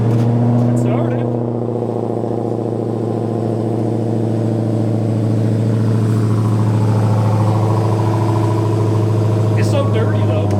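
A freshly started twin-turbo V8 car engine runs at a loud, steady low rumble with a droning tone throughout, close by, while a person talks briefly over it near the start.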